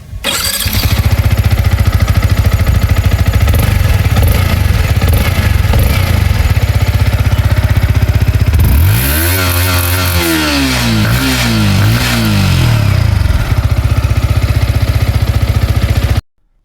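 A Yamaha MT-15 DLX motorcycle engine starts up close and loud, idling with a steady throbbing exhaust note, then blips through several sharp revs that rise and fall before settling back to idle, with no talk.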